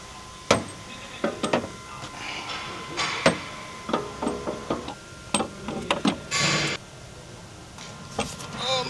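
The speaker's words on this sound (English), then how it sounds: "We got a ratchet in there." Ratchet clicking in short, irregular bursts while bolts are turned during coilover installation on a Lexus IS200, with sharp metallic ticks and knocks close by and no talk.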